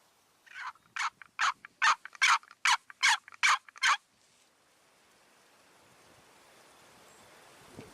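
A wild turkey tom gobbles in a rapid burst of about nine loud, rattling notes, then quiet outdoor ambience with a soft rising wash of background noise.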